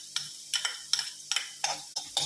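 Coriander and cumin seeds dry-roasting in a pan, stirred in a regular rhythm of about six quick scraping rattles, close and fairly quiet with no talk.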